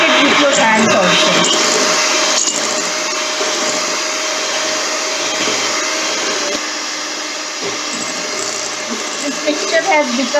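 Electric whisk beating ghee and sugar into a creamy mixture for nankhatai shortbread cookies, a steady loud motor whir running throughout with slight changes in pitch, while a voice speaks faintly underneath.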